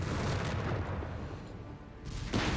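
A white phosphorus barrage pounds Panzers in the Company of Heroes 3 video game, heard as a dense, continuous wash of booming impacts and crackling bursts with a fresh blast near the end.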